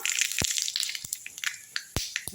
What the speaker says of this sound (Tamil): அதே கடாயை வச்சு கொஞ்சமாக கடுகு போட்டுக்கலாம் ஒரு தாளிப்பு கொடுத்துடலாம்